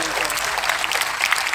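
An audience claps at a motivational RCM business seminar, a dense, steady burst of applause from a large crowd filling the brief moment without a break.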